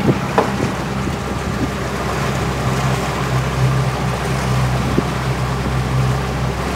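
A motorboat cruises on the river Main at Schweinfurt, its engine a steady, loud, close drone throughout, with wind rushing over the microphone and faint water noise.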